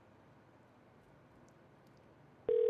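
Telephone busy signal heard on a radio call-in line, a loud steady tone cutting in abruptly near the end after quiet line hiss.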